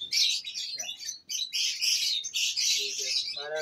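Albino lovebirds in a breeding aviary chirp and squawk continuously, a dense, close, shrill chatter from several birds with a few lower calls near the end.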